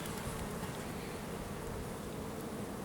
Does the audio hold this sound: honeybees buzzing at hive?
yes